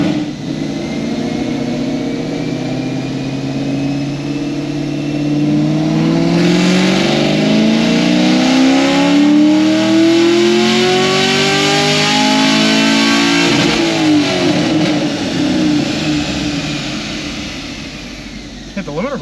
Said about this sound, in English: Hit the limiter by accident.